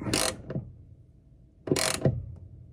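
A ratchet tightens a fitting during a Rosen visor installation on a Cessna 150G in a hangar, giving two short bursts of rapid clicking about a second and a half apart, close and fairly loud, with quiet pauses between.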